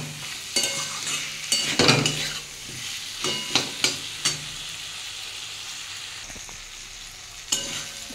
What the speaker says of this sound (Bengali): ভেজে রাখা আলু, পেঁয়াজ, টমেটো সব দিয়ে দেবো। এটা দিয়ে ভালো করে একটু কষিয়ে নেব।